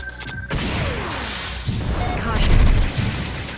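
Explosions and blasts from the PlayStation robot shooter Omega Boost, several booming hits and crashes stacked over dense game music and effects, loud and continuous with a heavier burst near the end.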